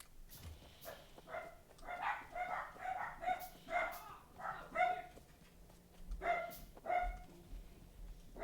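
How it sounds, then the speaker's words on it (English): A dog barks repeatedly in a steady run of sharp, mid-distance barks with brief whimpering yips between them, somewhat faint under a quiet indoor background. "Doggo's going crazy."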